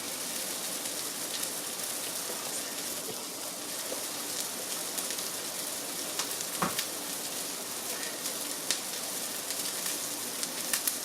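A Beyond Meat burger patty fries in a pan over medium heat, sizzling steadily and softly with scattered crackles and pops, and no voice is heard.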